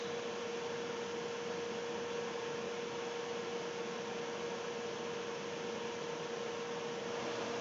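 A BECCA 3 or 6 gallon solvent recycler runs with a steady, even broadband whir and a constant thin tonal hum, unchanging and fairly quiet throughout with no voices.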